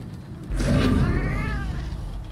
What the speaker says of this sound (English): I guess the kitty cat's stuck here.